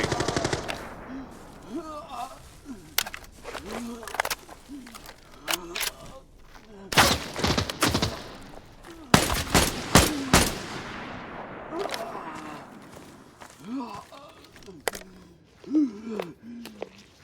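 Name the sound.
gunfire in Arena Breakout: Infinite video game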